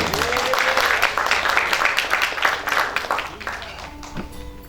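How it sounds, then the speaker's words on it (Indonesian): Audience applause at an Indonesian gathering, a dense, steady wash of clapping lasting several seconds with voices and cheering mixed in, tapering off toward the end. "Kita berikan tepuk tangan dulu deh"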